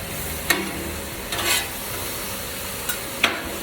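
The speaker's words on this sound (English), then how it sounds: "Stir up the onions just a little bit." Onions fry in a pan for a steak, cheese and onion sandwich: a soft, constant sizzle broken by a few sharp spatula scrapes and taps as they are stirred.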